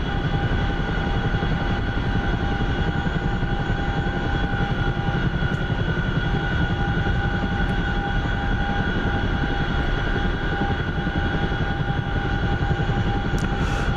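A Spitfire fighter plane flies overhead beside a pond with smoke in the air, its engine a steady, continuous drone that holds at the same level throughout.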